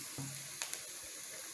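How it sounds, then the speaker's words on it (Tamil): A large onion fries in a pan with a soft, steady sizzle, broken by a couple of brief stirring clicks close by, fairly quiet and with no talk. "ஒரு பெரிய வெங்காயம் நல்லா ஃப்ரை பண்ணிக்கலாம்."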